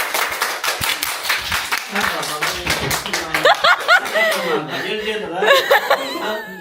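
An audience gives a burst of applause for Nadir, with quick clapping that thins out as voices chatter and chuckle over it.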